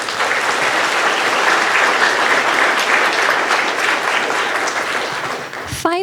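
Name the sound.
audience applause at a college commencement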